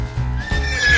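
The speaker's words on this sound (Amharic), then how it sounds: "ፈረስ" A horse whinnies with a rising, drawn-out neigh over a light music background, close and loud, as part of a farm-animal scene in a children's cartoon.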